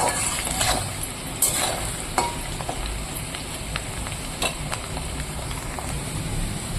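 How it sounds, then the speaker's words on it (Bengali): Potatoes sizzle and crackle steadily as they fry in a pan until browned, a close, continuous hiss with occasional louder pops and no voices. "আগে আমি আলুটাকে লাল লাল করে একটু ভেজে নিই"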